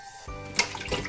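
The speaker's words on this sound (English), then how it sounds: "So give it a nice rinse." Raw chicken gizzards rinsed under running water, a short burst of splashing and trickling that starts after a brief quiet moment, close and steady with no talk.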